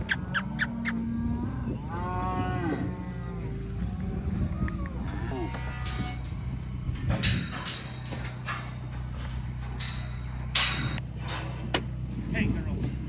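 Cattle on a prairie moo in several drawn-out calls, some close and loud, others farther off, mixed with hoof clatter and a man calling out to them.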